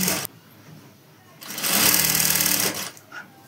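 A sewing machine stitches the waistband of a semi-Patiala salwar, running in short bursts: a brief whir, a pause, then a longer steady rattling run of stitches that stops and is followed by a quick final burst.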